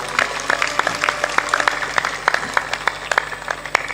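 Sparse, uneven clapping from an audience at a spiritual discourse, individual claps standing out in a loose rhythm over a low hum, fairly quiet and unenthusiastic.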